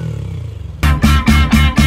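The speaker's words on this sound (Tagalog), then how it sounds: "Tinetesting na to NMAX." A stock Yamaha NMAX B2 scooter engine idles quietly, then bursts into loud, close blips of throttle, about four or five pulsing revs in quick succession.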